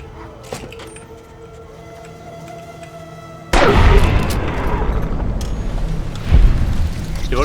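A single heavy boom from a gun firing in the video game Fallout New Vegas, loud and close. The sharp blast rings out over a low, steady game ambience, and a second lighter hit follows a few seconds later.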